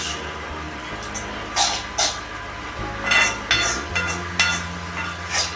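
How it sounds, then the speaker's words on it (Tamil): Tomatoes and onions are sautéed in a pan. A utensil makes repeated scraping and clinking strokes against the metal, with a low steady hum underneath. "வெங்காயம் வதங்கிட்டு இப்போ தக்காளியை போட்டு தக்காளியை வதக்குறோம்."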